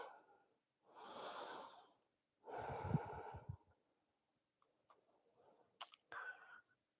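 Slow, audible breaths during a yoga stretch in a neck, shoulder and upper back class, two long exhalations followed by a quieter pause and then a short sharp intake and breath near the microphone.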